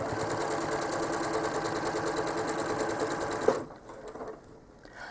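A home sewing machine stitching a quilt runs in a fast, steady whir for about three and a half seconds, then stops with a click, leaving a quiet hum.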